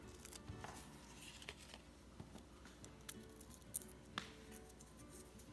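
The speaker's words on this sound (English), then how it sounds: "trim off the remainder," Scissors trimming the remainder of a Matchbox Lesney #33 Ford Zephyr III toy car box, heard as faint, close snips and light cardboard crinkles over a low background hiss.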